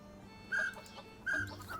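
Chickens in the farming game Dinkum give two distinct clucking calls about a second apart over a quiet background of faint game sounds.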